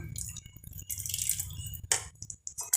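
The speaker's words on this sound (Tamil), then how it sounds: "கால் கப் சுடு தண்ணி மிதமான சூட்டில் இருக்குங்க அதை நம்ம இதில் சேர்த்துக்கலாம்" Hot water is poured into homemade sugar syrup for an eggless Christmas plum cake, giving close, irregular sputtering and dripping hisses, with a louder splashy burst late on and no talk.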